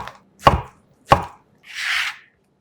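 A knife slices half a king oyster mushroom into 0.5 cm strips on a cutting board, two crisp, close chops followed by a soft scraping swish, with silence between and no talk.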